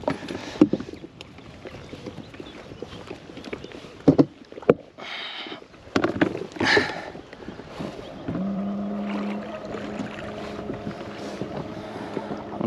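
A small boat motors a few metres across a large lake during a carp fishing session, with wind buffeting the microphone and water splashing, then a steady engine drone rising for the final stretch.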